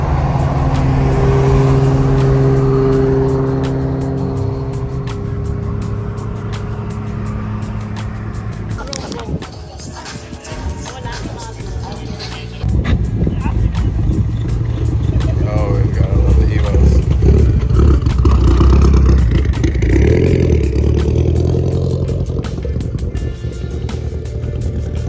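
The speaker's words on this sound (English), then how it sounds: "Let's take the Supra out." A Toyota Supra drives and accelerates, its engine a loud, steady drone that swells in the second half with rising revs, mixed with road and wind noise under scattered talk.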